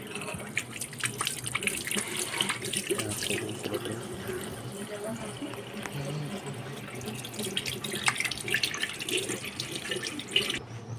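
Water runs steadily from a tap as hands and cooking utensils are washed at a sink, with clattering and splashing throughout and a faint voice in the background.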